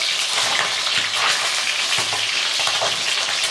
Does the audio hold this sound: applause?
no